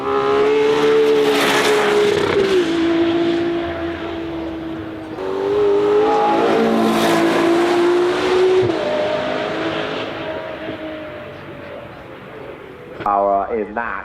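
Ferrari 812 Competizione V12 engine revving hard, loud rising and falling wails sweeping up and down in pitch, then a brief sharp burst near the end, with voices talking alongside.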